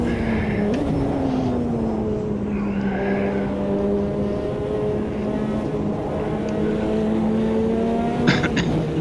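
Turbocharged GTO race car in Automobilista 2, engine droning loud and steady close up, pitch climbing and easing through the gears with a brief shift blip and tire noise near the end.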